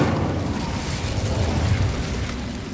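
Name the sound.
Incendio fire spell in Hogwarts Legacy video game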